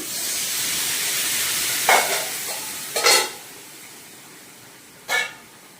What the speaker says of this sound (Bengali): এবার একটু জল দিয়ে দিচ্ছি।